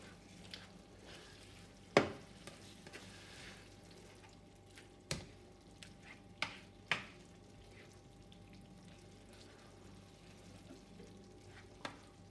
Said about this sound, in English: And in goes my peeled and diced tomatoes, fresh tomatoes.